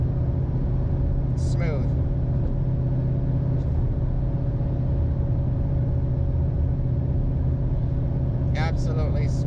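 A car with a Tremec Magnum XL six-speed manual cruises in 6th gear at about 2,000 RPM, giving a steady, low engine drone and road rumble throughout, with someone speaking briefly near the start and end.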